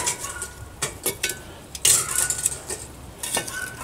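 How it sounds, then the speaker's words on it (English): Heavy cast iron Dutch oven lid set in place outdoors while sour dough biscuits bake, followed by coals placed on top, giving a run of close metallic clanks and scrapes in an uneven rhythm with no talk. "we'll take and put the lid on there. Then we're gonna take and put some coals on top of the lid"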